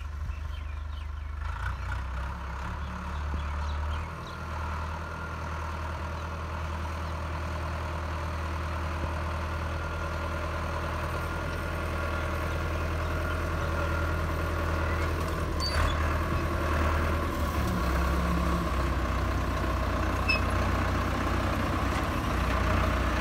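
A new YTO Agri Master tractor engine runs steadily with a low, continuous rumble while pulling a five-furrow plough, the drone holding close and even throughout with slight swells in load.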